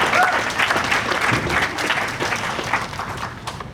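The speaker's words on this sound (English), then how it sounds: "Applause. Come on." Lively crowd clapping fills the room at the ribbon cutting for Avenues Recovery Center at Richmond, steady and fairly close, with some voices murmuring underneath.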